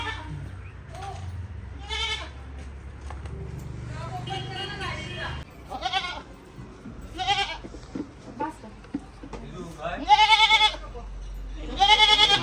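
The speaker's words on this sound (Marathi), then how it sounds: "मानाचा बकरा" A ceremonial goat at a village temple festival bleats repeatedly in short wavering cries, growing louder and closer toward the end, amid a crowd's chatter and voices.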